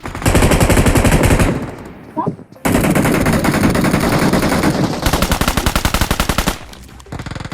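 Loud, rapid bursts of automatic weapon fire from a BGMI PUBG Mobile match, rattling almost continuously with a brief gap near the middle and a final volley of sharp repeated shots.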